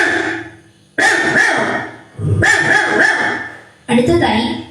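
A girl imitates a big dog barking, voicing three loud, gruff, drawn-out barks spaced about a second apart, each fading before the next, with no other sound between.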